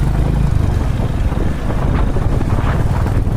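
A Honda Hyness CB350 motorcycle engine runs with a loud, steady, dense rumble that stays even throughout, heard up close with no talking.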